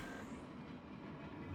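A moving train in the StarCraft II video game gives off a continuous low rolling rumble with faint rail clatter, steady and fairly quiet throughout, with no talk.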